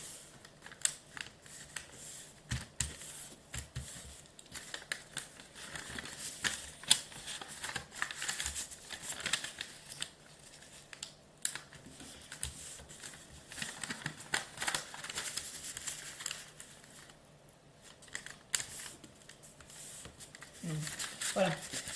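Origami paper is creased and folded at close range with soft crinkles, rustles and sharp papery taps throughout, while a person talks quietly at intervals.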